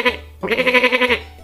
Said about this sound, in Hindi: उस ट्रैप के अंदर बकरी का बच्ची